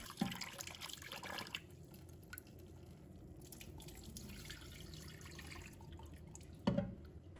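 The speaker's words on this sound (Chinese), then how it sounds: "然后用流动水充分的把猪腰冲洗干净，要多冲洗几遍" Running tap water rinses pig kidneys in a kitchen sink, a soft continuous splashing and trickle with louder bursts near the start and end.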